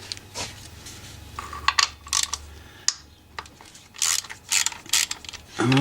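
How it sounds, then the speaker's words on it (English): A hand ratchet loosens the two timing belt tensioner bolts on a 1975 Subaru 2.2 engine, producing bursts of quick, close clicking and pawl ratcheting separated by brief pauses, with metallic clinks between strokes and no talking. "I'm going to go in by hand, okay, and loosen the 2 tensioner bolts."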